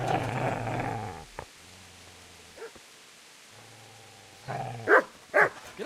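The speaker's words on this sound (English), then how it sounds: "Get away, you mutt!" A video-game dog growls low and rough, then falls quiet, then lets out a couple of sharp, close barks near the end. No talking.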